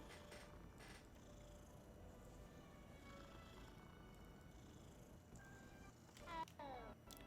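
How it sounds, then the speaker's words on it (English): A cat purrs softly and gives a few faint meows in the Hogwarts Legacy video game, quiet and close against a low ambient background. "Gotta pet all the kitties."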